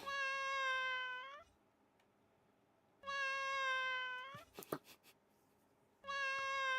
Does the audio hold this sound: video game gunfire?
no